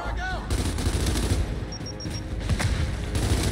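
Gunfire from the video game Gears 5 on the hardest difficulty in co-op: dense bursts of rapid fire and heavy booms run continuously, loud and close, with brief synthetic tones mixed into the game noise.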